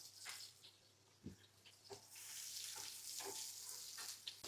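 Onion with cloves, cardamom and bay leaf frying in a pan, giving a steady soft sizzle with a few scattered clicks and small bursts; no voices.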